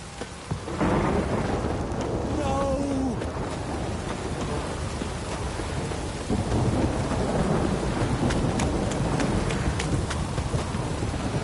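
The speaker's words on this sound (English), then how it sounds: "This downpour's a bastard, it is." Heavy rain pours down steadily with rumbling thunder in The Witcher 3: Wild Hunt, a dense, constant downpour filling the whole stretch.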